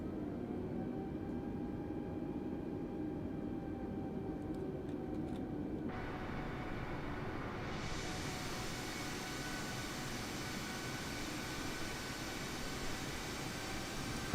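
An Airbus A320neo in easyJet livery spools up for takeoff at London Gatwick in Microsoft Flight Simulator 2020, a steady simulated engine roar that brightens and swells halfway through, heard alone without speech.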